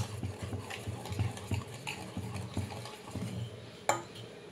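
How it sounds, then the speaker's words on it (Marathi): Dhokla batter made from ration rice and dal being stirred with oil in a bowl in one direction, a steady soft rhythmic scraping and sloshing, close and unaccompanied by voices. "आता आपण हे बॅटर छान असं मिक्स करून घेऊया. तेल टाकून एका डायरेक्शनला याला हलवायचं आहे."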